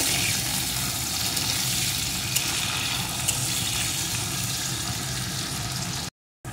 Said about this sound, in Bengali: উচ্ছেগুলো এখানে সুন্দর করে আমি ভেজে নিয়েছি।